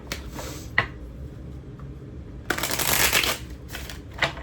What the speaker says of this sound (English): Alright, so let's shuffle.